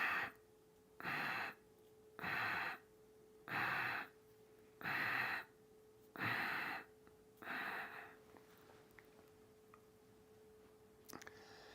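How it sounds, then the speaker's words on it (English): Seven short, forceful exhales through the nose or mouth during a guided breathing exercise, evenly spaced about once a second, close and clear, with a steady faint hum underneath and no talking. "Eight little exhales."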